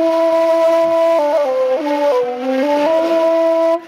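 A breathy Caucasian open flute, the uadyndz, plays a short, slow series of low-register notes stepping downward then back up, close and clear, alone.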